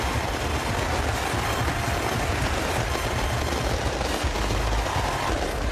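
New Year fireworks over Paris crackle and pop in a dense, continuous barrage. Rapid bursts overlap throughout with no pauses and keep a steady loudness.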